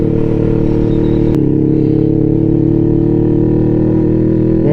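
A Kawasaki Ninja motorcycle engine drones steadily and loudly while riding, a continuous low rumble with a brief sharp spike early on and no pauses.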